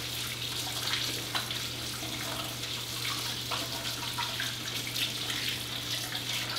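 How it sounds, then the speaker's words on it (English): Water runs steadily from a kitchen tap during handwashing, a constant close splashing stream with a low hum beneath it, no talking. "Let me wash my hands first."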